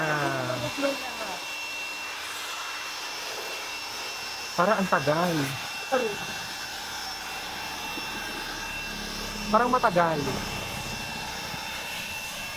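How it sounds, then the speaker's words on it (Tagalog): A steady whooshing blower drones throughout, with a few short bursts of speech cutting in over it. "Ayan na, blower na."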